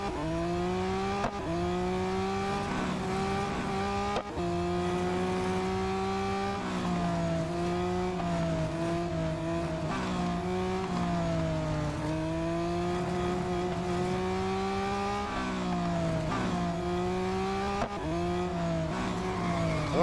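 Race car engine in the Real Racing 3 video game, revving high and steady with repeated gear shifts and brief dips as it accelerates through corners, continuous and loud with no talking.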